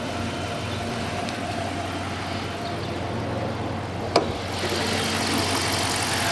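A 5.7-litre HEMI V8 engine in a 2016 Dodge Charger police car idles steadily with a low, even rumble, broken once by a brief sharp click partway through.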